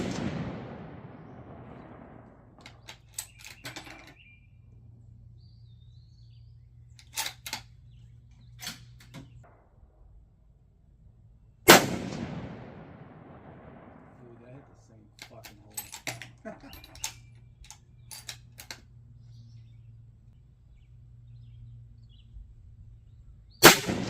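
Two sharp, loud gunshots roughly twelve seconds apart from a .25-06 Savage 110 bolt-action rifle firing Hornady American Whitetail 117 grain soft point rounds, each blast trailing off in a long decay, with faint clicks and handling noises between shots.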